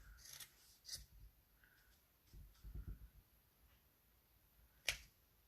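Scissors snip through fabric in a few short, crisp cuts with soft rustling between them, close and fairly quiet, ending in one sharper snip.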